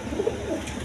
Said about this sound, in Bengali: দর্শক বিন্দু এখানে এক পেয়ার রেসার কবুতর আছে দেখেন।